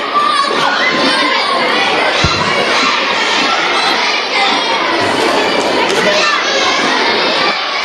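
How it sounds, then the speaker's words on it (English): Students at a school science quiz clap and cheer loudly together, excited children's shouts riding over a dense, continuous crowd roar that stays strong throughout. "Give her a big clap"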